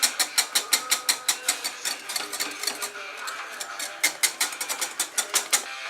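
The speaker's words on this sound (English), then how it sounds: "Whisk again." Eggs whisked briskly for an eggs Benedict sauce, a fast regular run of close, sharp metallic clicks that slows briefly midway before picking up again.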